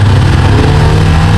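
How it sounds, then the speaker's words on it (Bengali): Motorcycle engine idling right after a cold start in sub-zero mountain temperatures, a loud, close, steady low rumble throughout. "আমার বাইক কোল্ড স্টার্ট দিচ্ছে শুভজিৎ"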